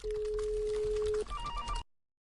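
A mobile phone rings with a steady electronic tone that switches partway into a higher, pulsing warble, loud and close, ending abruptly with no talking.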